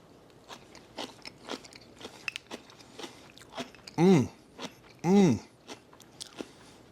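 Crisp crunchy chewing and biting of homemade sauerkraut with several wet crunches, two loud bites standing out near the end, close up and without talk.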